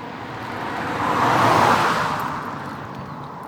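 One car rushes by on the road next to a cycleway, its tyre and engine roar rising smoothly then receding, heard alone without voices.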